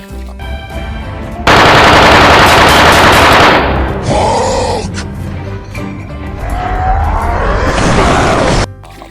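Loud, rapid electronic toy gun fire in long continuous bursts, with a brief pause midway before the blasting resumes, close and harsh.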